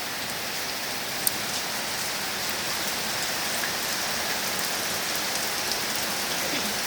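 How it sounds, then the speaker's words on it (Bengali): Steady, dense rainfall at night patters on surfaces in an unbroken hiss, with one brief sharp tick early on and no voices. "এরকম নিঝুম রাতে বৃষ্টি হচ্ছে"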